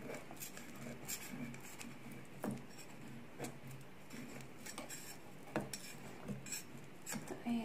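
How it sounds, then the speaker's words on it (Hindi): Metal knife scraping and clinking around the sides of a pan of set homemade milk cake, a steady run of light scrapes and small taps, close and fairly quiet, with no talking. "अच्छी तरह नाइफ को नीचे डालते हुए इसे चारों तरफ से अच्छे से निकाल लेंगे इस बर्तन से अलग कर देंगे"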